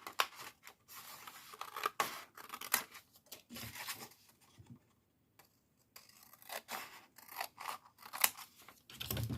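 Scissors slice through a cardboard chocolate box display, snipping in quick rhythmic bursts of close, crisp cuts with a brief pause midway.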